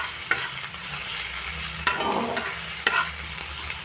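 Crushed garlic fries in a little oil in a pan, giving a steady close sizzle with a few sharp utensil scrapes and clicks as it is stirred toward brown.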